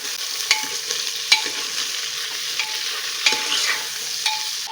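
Kasuri methi frying in a pot of mutton curry, with a steady soft sizzle and about five sharp scrapes of a spoon stirring at regular intervals, close and without talk.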